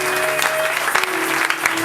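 A church congregation applauds during a Sunday service, dense steady clapping from many hands throughout, loud and close, with a sustained tone and faint voices beneath.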